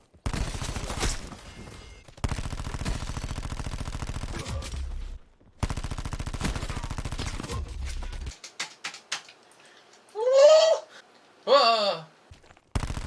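Video game gunfire comes in several sustained rapid bursts separated by short gaps, loud and close, followed by quieter stretches with exclaiming voices.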